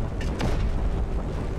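Enemies blowing up in the video game Just Cause 3 give a dull, rumbling boom that spreads into a steady low roar with scattered crackles, fairly quiet and without talk.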